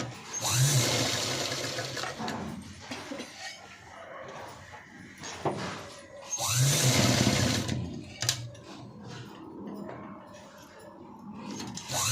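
A sewing machine stitches a blouse in two loud whirring bursts of a few seconds each, with quieter handling, rustling and clicks of fabric and machine in between, close by and with no talk.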